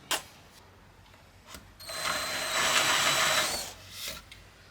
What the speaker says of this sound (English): This is a specific countersink for timber